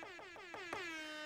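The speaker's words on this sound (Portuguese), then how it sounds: "vou pegar um outro aqui, ó, que é uma buzina também que é muito utilizada" An air horn sound-effect sample loaded as a drum-rack pad fires four short, sharp blasts in quick succession, then one longer sustained honk that rings out. It is loud and close, with no voices.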